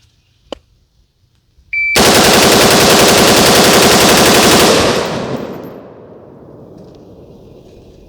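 A burst of rapid automatic-style gunfire, about thirty rounds fired through a super safety trigger, starts abruptly after a quiet moment and runs loud and continuous for several seconds before trailing off into echo.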